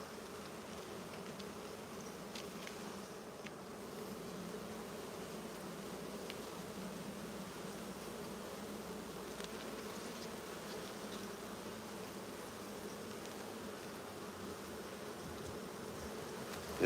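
Honeybees buzzing at a hive, a steady, dense drone of many bees heard close and unbroken throughout, with no talking.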